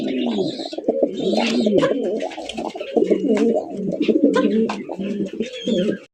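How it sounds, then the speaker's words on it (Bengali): Colored Rasgolla pigeons at a pigeon farm coo steadily and loudly up close, a dense layered murmur of many birds with occasional chirps and light flutters. "কালারিং রাসগোল্লা কবুতর।"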